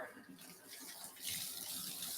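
Water running steadily from a basement bathtub faucet during a plumbing inspection, a close, continuous rushing that grows slightly louder partway through.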